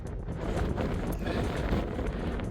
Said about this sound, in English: It was so windy it blew my sunglasses off.